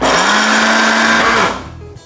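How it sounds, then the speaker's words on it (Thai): An electric blender at full power whirs loudly and steadily while puréeing Thai yum salad dressing ingredients, then winds down and stops near the end. "ปั่นด้วยเครื่องปั่นค่ะ ปั่นจนละเอียดเลยนะคะ"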